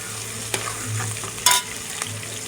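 Onions frying in a pan for chicken achar gosht, a steady close sizzle broken by a few stirring clicks and one brief louder hiss.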